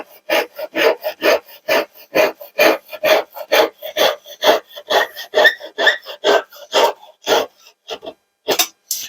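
Japanese pull saw cutting through wood, a steady series of rasping strokes about two per second, close and fairly loud, with no talking.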